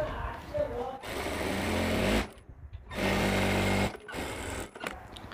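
A sewing machine stitching fabric for a kameez runs in steady bursts of rapid mechanical whirring, stopping briefly between runs, close by and fairly loud.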